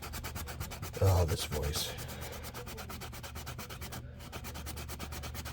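Sandpaper is held against a wooden fishing lure spinning on a lathe, a steady close rhythmic scraping drone, with a brief spoken remark near the start.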